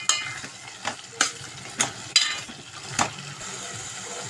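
A spoon scrapes and stirs drumstick and tomato curry with chilli powder in a pan in several quick, uneven strokes, with a soft sizzle of frying underneath.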